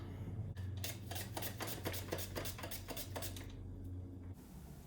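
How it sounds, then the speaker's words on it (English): Kale sliced on a mandoline for salad, a run of about nine quick, evenly spaced rasping strokes over a steady low hum, close and fairly clear, ending abruptly. "I'm going to use my mandolin for this, which gives it a nice even cut"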